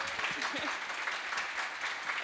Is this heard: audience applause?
yes